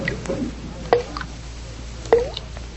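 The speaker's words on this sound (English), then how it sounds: "I'm sure the faucet is dripping." A dripping bathroom faucet rendered as a radio drama sound effect: two distinct plopping drips about a second apart, fairly close and clear over a faint background hum.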